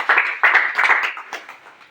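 A room of students claps at a career guidance event, a dense patter of hands in a few uneven surges that thins out and fades away toward the end.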